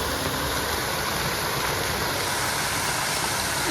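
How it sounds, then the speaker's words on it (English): A waterfall on the Fraser Coast roars steadily and loudly throughout, as a dense, unbroken rush of falling water heard close by. "is from this fantastic waterfall."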